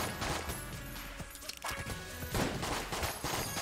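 Gunfire in the video game Enter the Gungeon, a dense, crackling volley of rapid shots and impacts with a short lull midway, then a fresh burst.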